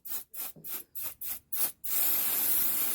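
Silicone lubricant sprays onto a car's suspension stabilizer bushing in six quick, close, rhythmic bursts, followed by one longer continuous hiss.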